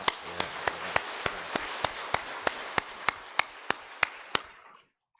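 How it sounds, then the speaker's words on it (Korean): A church congregation at a Sunday service claps for the choir and musicians in a steady, unison rhythm of about fifteen sharp beats over a dense clapping wash, which then stops abruptly into near silence. "다 한번 박수 한번 쳐주십시오."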